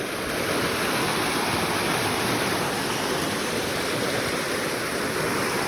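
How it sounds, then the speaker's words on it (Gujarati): Floodwater rushes down a village stream after heavy rain, making a loud, steady roar of turbulent water close by that runs without a break. "ત્યાં ને નેવડીએ જો બહુ પાણી આવેલું છે."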